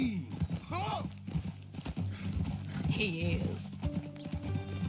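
A horse's hooves clip-clop at a walk in the Red Dead Redemption 2 video game, steady rhythmic steps close by, with a voice and a short whinny over the top.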